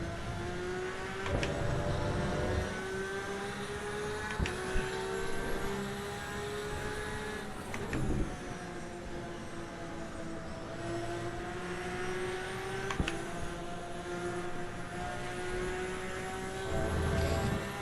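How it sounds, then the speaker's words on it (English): A Porsche engine at full throttle in the Assetto Corsa EVO racing game at Monza, a sustained high droning whine that rises steadily with brief shift dips, loud and continuous without speech. "I can hear you put the throttle down, JB."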